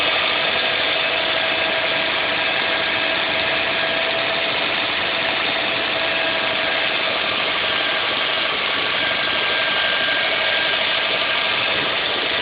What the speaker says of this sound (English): This is what the vehicle sounds like from a cold start.